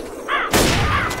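A short, loud blast of gunfire from the zombie shooter Left 4 Dead cuts in after a brief lull, ringing out sharply for about half a second.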